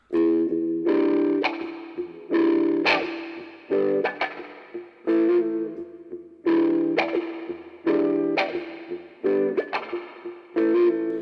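Electric guitar chords with muted, percussive upstrokes in a steady repeating pattern, the tone sweeping as a wah pedal rocks back and forth.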